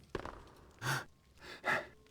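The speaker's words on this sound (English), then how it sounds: "She just sits there and snores" A sleeping woman in the Thief 2 video game snores: two slow, breathy rasping pulls follow a brief click, each swelling and fading with quiet gaps between.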